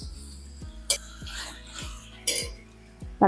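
Chicken being sautéed in a pan, stirred with a utensil: soft, regular scraping strokes with occasional bright metallic clinks against the pan, all close by.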